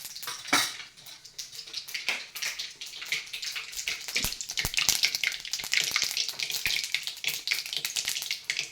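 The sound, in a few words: mustard seeds crackling in hot oil for tempering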